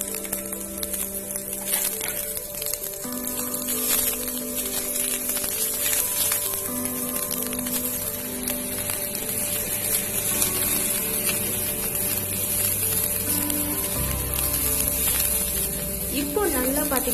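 Chopped onion, garlic and green chili sauté in a pan with a steady, continuous sizzle throughout, while a voice speaks over it and background music plays.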